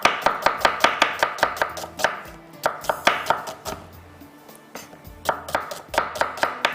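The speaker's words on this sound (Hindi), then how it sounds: "प्याज को भी इसी तरह से आपने बस लंबाई में कटिंग करना है" Onions sliced lengthwise with a knife on a cutting board, a brisk run of sharp, evenly spaced chops that pauses briefly midway and then resumes, close and clear, with no talk.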